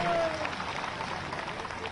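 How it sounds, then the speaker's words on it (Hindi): Scattered audience clapping at a tribal honour ceremony in Umaria, Madhya Pradesh, moderately loud and fairly brief, with a voice briefly audible at the start. "जोरदार स्वागत करो ताली बजा"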